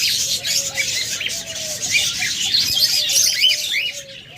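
Caged pet budgerigars, cockatiels and lovebirds squawking and chirping together in a dense, shrill chorus, close by and continuous, with a faint low hum underneath and no voices.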